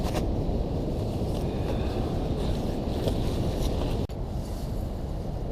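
Strong wind roars continuously against the microphone at a winter camping gathering, a dense buffeting rush with a brief dropout near the end.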